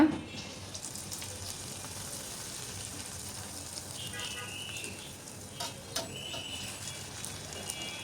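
Batter for Dhakaiya oil pitha fries in hot oil with a soft, steady sizzle that stays faint and even throughout, with a few light clinks.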